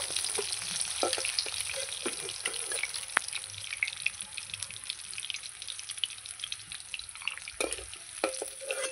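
Fish fry in hot oil in a pan, making a steady, continuous sizzle and crackle close by, with a few sharp clinks of a utensil over it and no talking.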